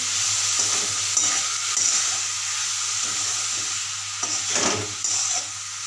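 Dried shrimp chutney with coriander sautéing in a pan, a steady sizzle and hiss with a few scraping stirs of a spoon, close and continuous.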